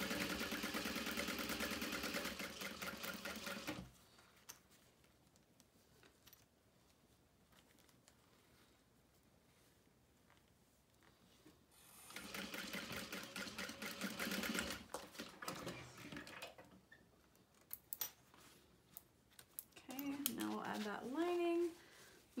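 A sewing machine basting a zipper onto a make-up bag runs in three separate bursts of rapid stitching, close and clear, with quiet pauses between them.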